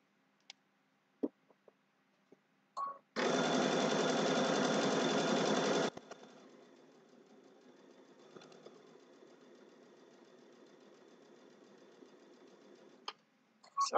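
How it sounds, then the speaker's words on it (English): A sewing machine stitches a fabric shopping bag in one loud, fast buzzing burst of about three seconds, then slows to a quieter, lighter run with a few scattered clicks before and after. "I want to stitch over that"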